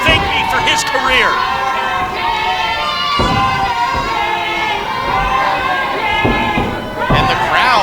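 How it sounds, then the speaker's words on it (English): At an independent wrestling show in the Oroville Convention Center, a loud, dense crowd keeps up a rhythmic chant of 'Burger King', with cheers and scattered shouts mixed in. An announcer's voice talks over the noise. "the crowd chanting Burger King at the last king, Manny Roa."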